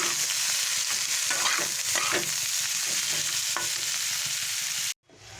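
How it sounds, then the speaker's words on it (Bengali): Kashmiri chili powder being stirred into a frying Bengali fish curry, a steady loud sizzle with scraping spoon strokes throughout, cutting off abruptly near the end. "এক চামচ লঙ্কা কাশ্মীরি লঙ্কা গুঁড়ো এটা দিলাম ভালো করে আমি এটাকে মিশিয়ে নেব"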